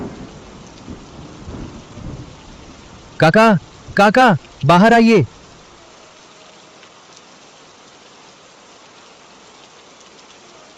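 Steady rain hisses in the background as someone calls out loudly several times; a low rumble fades near the start.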